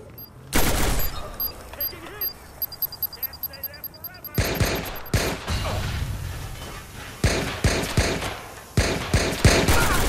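Rapid bursts of gunfire crack out in a Watch Dogs gunfight, dense volleys and single shots repeating loudly and close, broken by short pauses, with a mechanical whir and faint voices underneath.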